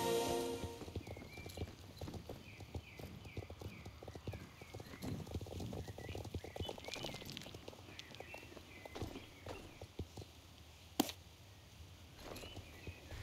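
Horses walk in the online game Star Stable Online, their hooves clip-clopping in a steady irregular patter that lasts throughout, with occasional louder knocks and faint background ambience.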